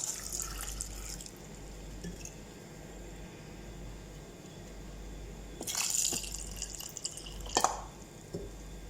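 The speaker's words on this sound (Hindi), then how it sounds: "अब इसमें हम पानी ऐड करेंगे।" Water is poured into a pot of masoor dal cooking with onion, tomato and green chili, giving short splashing and dripping bursts over a steady low kitchen hum.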